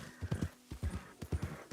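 Hoofbeats of a horse galloping in Red Dead Redemption 2 land in close, loud clusters of three with brief gaps between strides, standing clearly above a quiet background.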